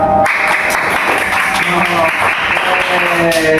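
Schoolchildren in a classroom break into applause for a presenting group, a sustained, loud patter of many small hands close by, with a voice or two underneath.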